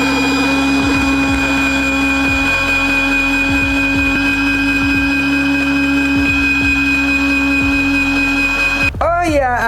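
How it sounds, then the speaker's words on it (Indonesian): A carrot being grated in a pressed kitchen grating gadget gives a steady whirring hum with regular low scraping thumps about every second; a voice breaks in briefly at the end. "pertama-tama kita mau coba parut wortel dulu"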